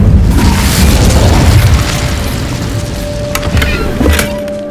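Incendio fire spell cast in the Hogwarts Legacy video game, a loud booming blast that opens the clip and then fades into a crackling, decaying rumble with a faint tone.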